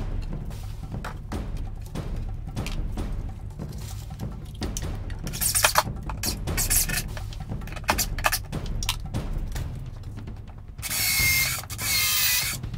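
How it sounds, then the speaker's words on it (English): A power drill countersinks holes and drives screws while a glue-up station is assembled, making repeated short whirring bursts and ratcheting clicks close by, ending in a longer steady spin. "First, drill the hole with a countersink,"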